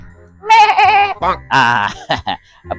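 A human voice imitates a sheep bleating with loud, wavering, nasal calls, close and in short bursts, mixed with a bit of spoken talk.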